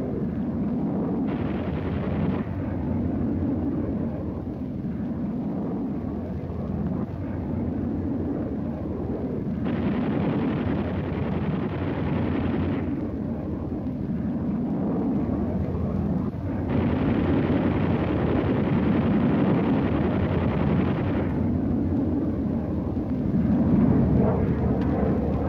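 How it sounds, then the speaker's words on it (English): Jet aircraft peeling off and heading home after a Korean War strike mission, a steady rushing roar with brighter swells of engine noise that come and go, dense and unbroken throughout. "Mission completed, the jets peel off and head for home."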